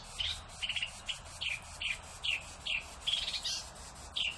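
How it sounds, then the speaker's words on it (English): Small birds chirp outdoors in a steady run of short, bright tweets and trills, repeating roughly every half second at moderate distance with no talking over them. "Do you hear the birds?"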